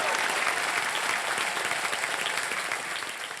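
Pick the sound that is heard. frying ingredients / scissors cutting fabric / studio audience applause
studio audience applause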